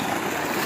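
Tube well running on 12 plates and pumping water at full flow, a loud, steady broadband rush of gushing water that stays constant throughout with no pauses.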